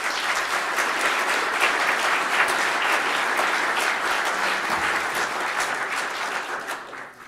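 A sustained round of applause from the audience at a city's 2017 State of the City address, many hands clapping steadily and loudly for several seconds before tapering off at the end.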